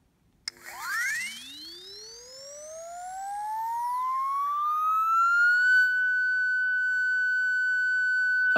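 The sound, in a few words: Blower air blower app tone from iPhone speaker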